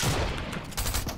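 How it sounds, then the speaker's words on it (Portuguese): Gunfire crackles in a Fortnite match, a short, dense burst of rapid shots with loud, close cracks packed tightly together. "Tem outro tiro do meu lado."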